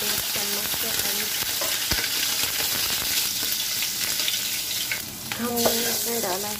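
Curry leaves, garlic and ginger hit hot oil in a pan for karhi, sizzling and spattering steadily up close, with brief stirring clinks and a little running water; no one speaks.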